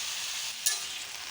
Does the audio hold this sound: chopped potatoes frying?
yes